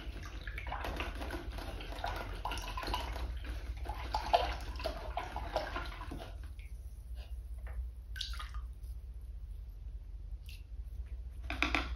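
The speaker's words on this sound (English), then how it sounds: "And then I'm going to rinse this brush out." A paint brush swished and rinsed in a water container, with quiet splashing and agitation for about six seconds, then faint scattered drips and small clinks in a near-silent room; close and soft, no talking.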